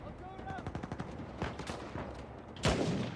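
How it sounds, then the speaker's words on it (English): Enemy gunfire in Uncharted 4 arrives in rapid automatic bursts with crackling single shots and a loud close blast near the end, as someone speaks over the shooting. "I'm getting shot at from both sides"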